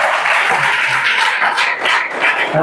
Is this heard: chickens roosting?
no